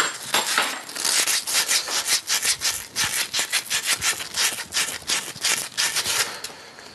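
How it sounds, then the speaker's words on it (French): A piece of tube clamped on a workbench is sawn with quick, rhythmic back-and-forth strokes, a close, raspy cutting sound repeating steadily for several seconds. "On va couper un bout de tube pour vous faire une soudure trois soudures en une fois."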